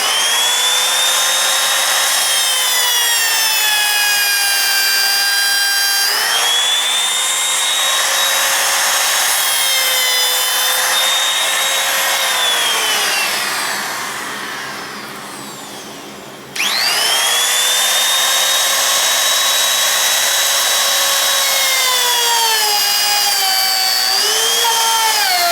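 A power tool cuts through metal close to a clamp while a Kawasaki KLT 200C motorcycle is being restored, giving a loud, steady whine that pauses briefly and then starts again.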